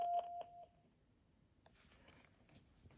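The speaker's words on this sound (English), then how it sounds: "I just heard a tone when I picked this phone back up." An RCA 25424RE1 cordless desk phone gives short electronic beep tones when its handset is picked up, a quick clear pair of tones at the start followed by faint handling noise.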